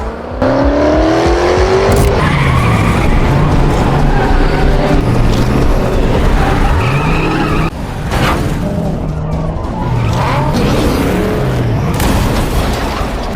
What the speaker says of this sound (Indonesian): Dan terjadilah balapan sekaligus kejar-kejaran